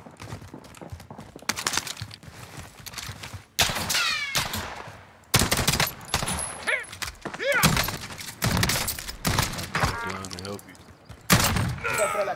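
Video game gunfire in Call of Duty: Warzone, with bursts of sharp repeated shots and loud impacts mixed with excited talking from players.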